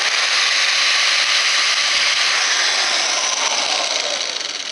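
Power drill boring a hole through a small plastic craft bead, a loud, close, continuous high whine that holds steady for several seconds and eases slightly at the end, with no voices.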